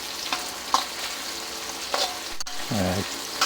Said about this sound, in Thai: ผัดให้หอม